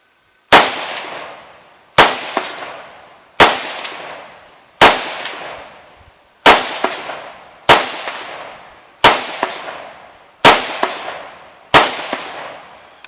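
Nine evenly spaced rifle shots from a Hakim rifle, each a loud, sharp crack with a quick ringing decay, fired outdoors at a steady pace of roughly one every one and a half seconds, no voices in between.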